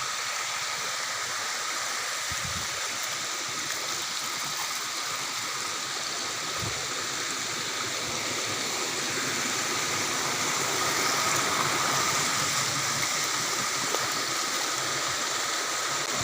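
A clear stream flowing where people once did laundry and bathed, a soft, steady rushing and gurgle of water close by, quiet and continuous with no talking.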